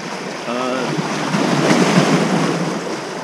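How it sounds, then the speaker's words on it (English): Big rollers come in off a lake on a blustery early-autumn day, a steady broadband rush of surf mixed with wind buffeting the microphone, with a brief voice-like sound early on. "There's some big rollers coming in from the lake today."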